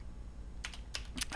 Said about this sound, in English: It's kind of weird typing stuff and seeing it appear